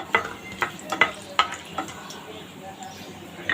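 Four cardamom pods, four cloves and a cinnamon stick lightly frying in a pan for sweet zarda pulao, a soft sizzle with several sharp clicks and scrapes from stirring, close by and fairly quiet.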